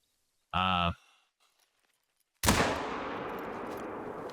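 A single loud rifle shot from a Malmer 7mm Magnum in a hunting video game, a sharp crack followed by a long rolling echo that fades slowly, coming after a brief vocal sound and a short silence.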